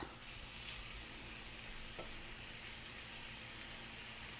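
Minced onions browning in a hot pan for a hobo casserole, giving a steady, close, continuous sizzle that holds evenly throughout with no talking.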